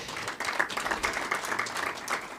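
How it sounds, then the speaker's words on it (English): A crowd applauds steadily, dense clapping from many hands rising quickly and holding for a couple of seconds. "j'aimerais vraiment applaudir nos panélistes,"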